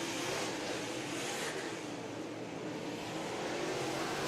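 MARS late model race cars roaring around Fairbury Speedway, a steady, loud, dense engine drone filling the whole stretch with no pause.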